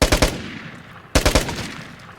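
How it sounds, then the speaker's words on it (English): PKM machine gun fired in the video game Vigor, two sharp bursts of several rapid shots each, loud and close, separated by a brief pause, with no talking. "Pull out the PKM."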